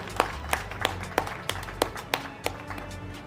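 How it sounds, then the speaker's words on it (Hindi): An audience at a Babasaheb Ambedkar Jayanti function in Chandigarh gives sparse, thin applause for honorees, about ten separate claps spaced at a steady rhythm, fairly faint. "जोरदार तालियां बजाइए उन लोगों के लिए।"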